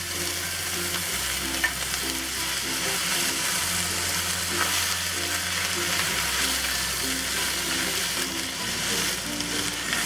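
Garlic and Chinese broccoli (gai lan) stir-frying in hot oil in a pan over medium-high heat, giving a loud, steady sizzle with scraping and tossing throughout.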